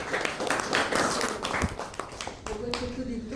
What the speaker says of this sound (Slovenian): mogoče kakšen kratek aplavz